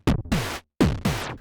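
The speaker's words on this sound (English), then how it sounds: "My modular synth is going to sound like this." Modular synth patch firing four sharp percussive hits in an uneven pattern, each with a bright noisy attack and a falling low pitch sweep, with a short silent gap in the middle and no talking.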